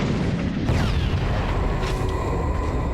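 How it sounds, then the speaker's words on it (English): An adhesive bomb detonates in the fantasy video game Rift, a broad, loud boom that hits at once and then rolls on as a sustained rumbling explosion tail for several seconds. "So let's use a bomb on him. An adhesive bomb."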